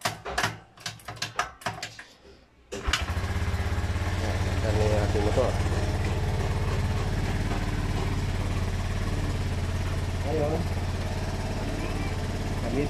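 A motorcycle with its battery unplugged is kickstarted, a few sharp mechanical clatters followed by the engine catching and settling into a steady, low idle that runs on, with faint talk over it.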